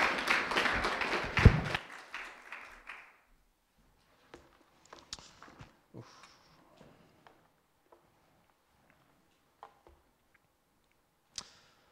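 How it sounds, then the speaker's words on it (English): A congregation's brief clapping welcomes a returning speaker back, dense and loud for the first few seconds, then thinning into scattered claps and taps. "Can we just give him a warm welcome of applause just to welcome him back?"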